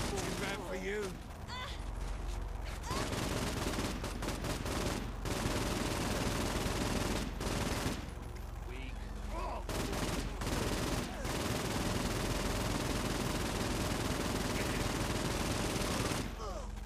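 Gunfire in the Saints Row: The Third video game: dense, continuous bursts of shots and fusillades with mechanical clatter, running throughout and mixed with a person talking.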